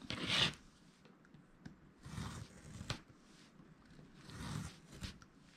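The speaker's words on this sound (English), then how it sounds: "And then I'll bring in my handy dandy finger blade" A craft finger blade cutting scrap paper along an angled ruler for a mini magazine-style Valentine holder: soft, close scraping and rasping strokes in three separate bursts with quiet pauses between.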